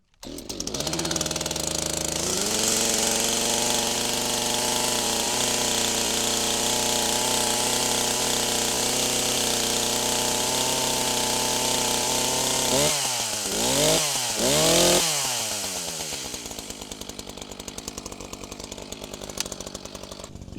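A newly unboxed chainsaw runs at a loud, steady idle close by, then revs up and down several times near the end before settling back to a lower rumble.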